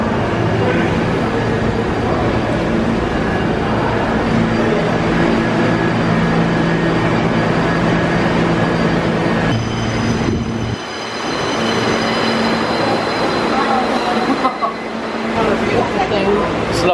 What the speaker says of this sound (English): So we want the D train